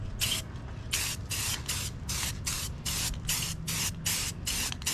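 An aerosol spray paint can coats the metal hood of a 2010 Honda Civic in a series of about eleven short, loud hissing bursts with brief gaps between them, close up and with no talking.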